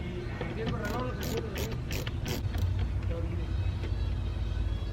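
Tool work on T20 bolts under the iDrive screen of a BMW F10 M5 interior, with clustered ratcheting clicks over a steady low hum while a person talks.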